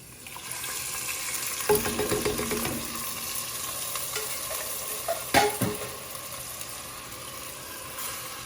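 Liquid poured into a hot pot of chicken sausage pasta red sauce on an outdoor grill, a steady loud sizzle with bursts of hissing as it hits, plus clinks of a spoon against the pot.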